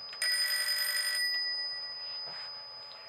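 A vintage party-line telephone's bell ringer, powered by a test set, rings in one loud, bright burst of about a second and then fades into a lingering hum.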